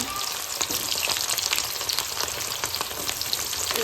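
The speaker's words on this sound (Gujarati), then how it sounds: "એટલે કાંદાને આપણે તળી લઈશું" Chopped onions frying in hot oil in a home kitchen, a steady close sizzle with faint crackles and pops, continuous and moderately loud.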